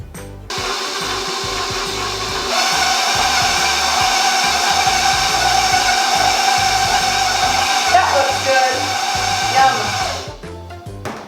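An electric mixer whirs steadily for several seconds, blending flour, spices and milk into glazed apple cookie dough, its motor pitch rising slightly as it works, then cutting off near the end.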